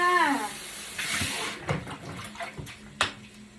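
Water runs and splashes in uneven bursts during a pet dog's bath, a soft close hiss of tap water broken by a few sharper drips and splashes.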